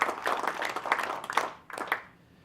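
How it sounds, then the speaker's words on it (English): Audience applause for a guest speaker at an evening event, brisk clapping that swells, briefly dips, then fades out within a couple of seconds. "And another round of applause for Abraham for the message that he has shared."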